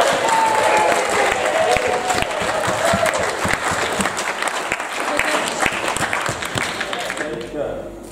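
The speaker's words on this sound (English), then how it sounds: "So big cheer for him." An audience bursts into steady, loud applause with some cheering for a young speaker at a talk, the clapping dense and continuous for several seconds before tapering off.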